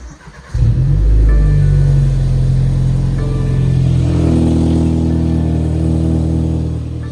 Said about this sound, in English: So let's hear the car on cold start.